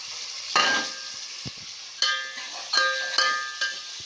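Onion, tomato and green chillies hit hot oil for a brinjal, potato and cucumber curry, giving bursts of sizzling and frying with stirring scrapes and a few clinks of a utensil against the pan.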